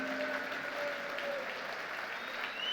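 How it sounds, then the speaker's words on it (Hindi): Dense clapping from an audience saluting the Achiever Group's leaders at an energetic motivational event, a continuous even wash of applause at moderate level throughout, with a faint tonal whine drifting in the background. "अचीवर ग्रुप के पिलर्स के लिए जोरदार तालियां होनी चाहिए।"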